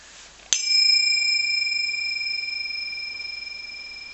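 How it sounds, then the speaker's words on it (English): Metal cymbals struck once, giving a sharp clash that settles into a long, bright, sustained ring with steady high tones that fade only slowly over several seconds. "I've got some cymbals."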